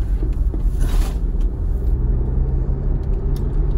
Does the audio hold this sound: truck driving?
yes